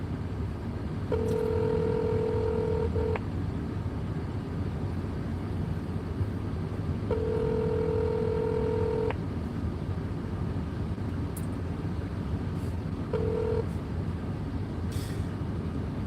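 A phone call rings out unanswered: three steady ringback tones, each about two seconds long, sound at even intervals over a constant low hum, with the last one cut short.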